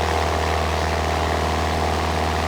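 Steady droning engine and propeller hum of a simulated Cessna 172 SP Skyhawk in Aerofly FS 4, flying a turn in the pattern at Birrfeld, an even continuous tone with no talk.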